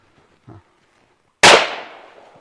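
A single sharp rifle shot rings out during an army firing drill, a loud crack with a trailing echo, preceded by faint soft movement.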